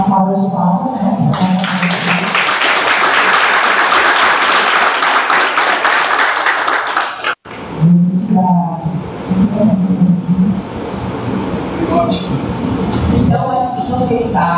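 Audience applause at the opening of a judiciary memory week event, loud, dense clapping for about seven seconds, then a pause and talking with scattered claps.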